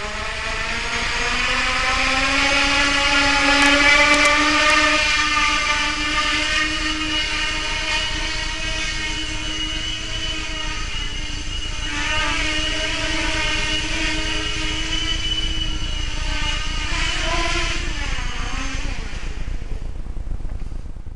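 Master Airscrew propellers weighing 149 grams spin on an nVader 600 multirotor during a prop test, giving a loud, steady whirring drone with stacked harmonic tones that shift slightly in pitch, continuous throughout with no talk.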